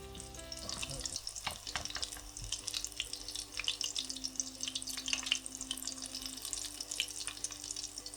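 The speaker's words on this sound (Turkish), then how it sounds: "geri kalan köftelerimi de aynı şekilde kızartacağım" Meatballs sizzle and crackle in a hot pan with steady popping and spitting throughout, close up, with a faint low hum underneath.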